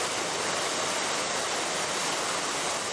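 Cold waterfall, with water at about six degrees, pouring down in a steady, loud, unbroken broadband roar that fills the whole stretch with no voices heard.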